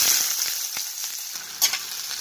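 Bay leaf, cumin and ground spices frying in hot oil for a chicken curry, a close, steady sizzle with crackling pops and a short sharp spatter near the end, no voices.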